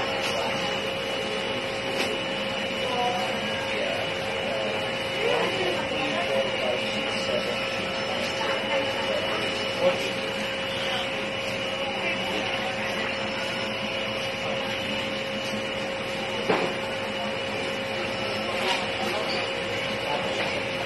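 A printer on a PYD Odeon 4 machine runs a head cleaning cycle, a continuous mechanical whir and hum with a steady tone, punctuated by a few faint clicks and knocks.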